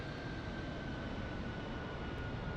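A Harrier jet flying overhead: a steady, dense, distant engine roar filling the short stretch with no break and no voices.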